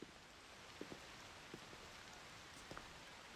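Steady rain falls in Assassin's Creed Odyssey, a soft, even hiss of drops across surfaces with occasional faint patters, quiet and continuous with no voices.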